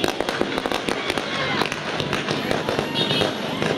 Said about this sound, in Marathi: फटाके बॉन्डरी रेषेच्या बाहेर वाजवा